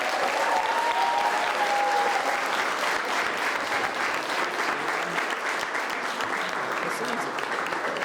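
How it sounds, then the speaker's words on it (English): Audience at a PowerCorps Boston graduation ceremony applauds the cohort 2 graduates, a dense, steady wash of clapping with faint voices and whoops mixed in, gradually easing toward the end. "But one last round of applause to cohort 2 graduates."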